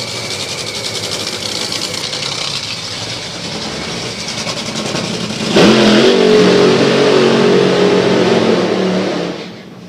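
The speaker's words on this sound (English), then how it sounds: "your last pair in Top Fuel qualifying" Top Fuel drag racing car on a new chassis during qualifying, its engine roaring loudly and continuously, swelling into a harsher, heavier roar midway before cutting off near the end.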